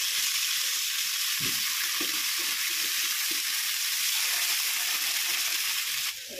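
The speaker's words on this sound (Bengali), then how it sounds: "আমি কিন্তু 2 পিঠ উল্টাই পাল্টাই ভেজে নিয়েছি" Rupchanda pomfret fish frying in oil in a pan, a loud continuous sizzle with soft clinks and shuffles from turning the fish.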